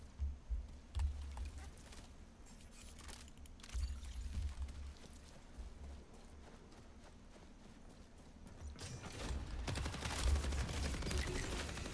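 Gunfire in the KovaaK's aim trainer game: rapid, clipped gun reports in loose bursts, with clicky typing-like mouse and key sounds mixed in and a heavier burst near the end.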